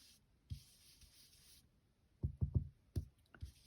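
Soft, close rubbing strokes of an ink pad across card stock while making a card. The pass is faint and brief, then a cluster of light taps and swipes follows near the end.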